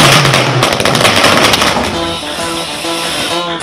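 Firecrackers burst during a Diwali 2020 family celebration in Tamil Nadu, a dense loud crackle of pops in the first half, then fading under tonal music-like sounds.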